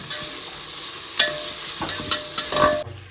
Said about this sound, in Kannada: ಆನಂತರ ಒಂದು 3-4 ಮೆಣಸಿನ್ಕಾಯಿ ಹಾಕಬೇಕು. ಓಕೆ, ನೆಕ್ಸ್ಟ್ ಚೆನ್ನಾಗಿ ಅಲ್ಲಾಡಿಸಿ